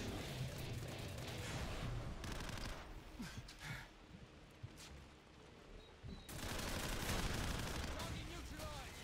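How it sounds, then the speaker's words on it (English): A shotgun blast sounds in Call of Duty 4: Modern Warfare amid a steady stream of loud gunfire, with bursts that rise, drop back during a quieter stretch in the middle, then return at full force, and faint talk beneath. "shotgun to the face"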